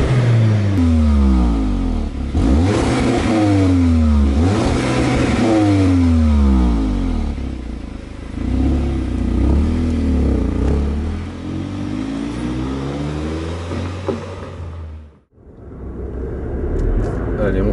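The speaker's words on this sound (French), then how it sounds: "je profite d'un résonateur de son ici, plus des clapets d'échappement actifs," A 2014 Audi S1 engine in dynamic mode with sound resonator and active exhaust flaps open, loud repeated revs rising and falling, with a rumbling idle between blips and a brief cut near the end.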